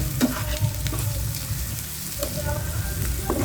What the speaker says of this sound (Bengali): হলুদটা দিয়ে আবার একটু নেড়ে চেড়ে নেবো